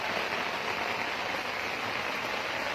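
Rain falls on a home garden of potted plants and a water lily tub at the start of the rainy season, an even, continuous soft hiss of drops with no voices.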